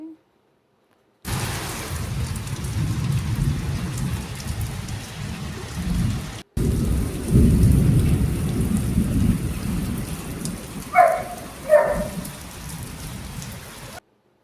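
Heavy rain pours steadily with gusts of wind, and thunder rumbles low and loud through the middle before the storm continues with a couple of sharper, brief sounds near the end.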